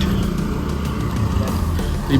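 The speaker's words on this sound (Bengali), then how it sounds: "এই যে বাইক চলে গেল" A motorcycle engine hums past at moderate distance at Parasnath Hills, Jharkhand, a steady rumbling drone over faint road ambience, with a small clatter near the end.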